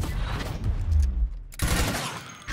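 Gunfire from the tactics game Gears Tactics: a heavy burst of loud shots and a booming impact, a brief lull, then another sharp volley of fire.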